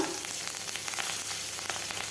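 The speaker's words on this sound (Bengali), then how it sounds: "ওই মাছ ভাজার তেলেই দিয়ে দিচ্ছি পেঁয়াজ, কাঁচা লঙ্কা" Onion and green chili sizzle in oil left from frying fish, a close, continuous hiss with scattered crackles and light stirring.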